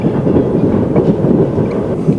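Train wagons in Siberia rumble and clatter along the rails, a loud, continuous low roar with faint rhythmic clicks close by and no voices.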